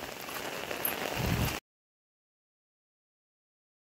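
Heavy monsoon rain pours near Rameshwar temple in Kurang village, Konkan, a dense steady hiss for about a second and a half before cutting abruptly to silence.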